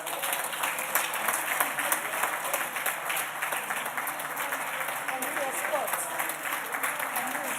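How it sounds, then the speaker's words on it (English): An audience applauds Florence Abonyo's procession as staff escort her to the door, steady sustained clapping throughout with voices talking over it. "you can go ahead and clap for her"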